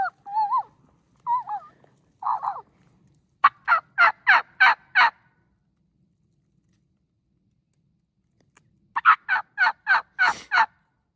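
Wild turkeys gobble during a spring turkey hunt, with a few short yelps, then a rapid rattling gobble, a long quiet pause and another loud, fairly close gobble.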